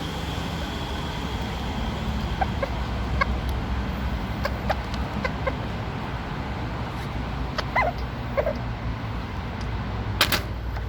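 A small bantam micro sirama chicken clucks softly in short, scattered calls over steady low outdoor background noise, with a dog's faint whimpers mixed in.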